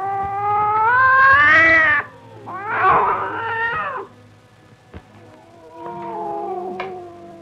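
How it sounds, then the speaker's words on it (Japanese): A cat lets out several long, loud, drawn-out meows and yowls, close by, with short pauses between cries. "猫ちゃん、猫目の鳴き声か。"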